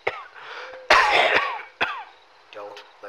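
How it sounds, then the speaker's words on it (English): A persistent cough in an analog horror story: several harsh coughs and throat clearings in a short burst, close and loud, with raspy breathing between them. "And this damn persistent cough won't go away."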